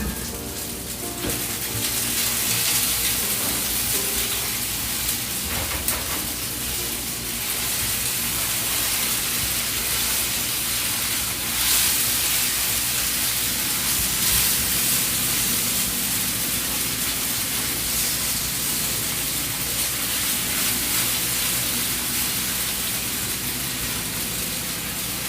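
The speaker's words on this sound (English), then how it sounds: "So I'm going to stir my tofu." Tofu stirred and frying in hot oil for sesame tofu, a dense continuous hiss of sizzling fat filling the whole stretch, loud and steady with no talking.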